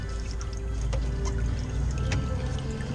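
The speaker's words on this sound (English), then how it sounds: "So I'm gonna make sure I got water flow." Water flowing steadily inside a Hoshizaki ice machine that needs maintenance, a continuous trickling pour with a low mechanical hum and a couple of faint clicks.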